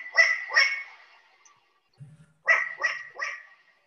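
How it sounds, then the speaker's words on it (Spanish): Long-eared owl alarm calls: harsh, bark-like notes, two close together, then a soft low sound after a pause and a quick run of three more, loud and clear against silence. "El segundo también es el búho chico, pero es una voz de alarma."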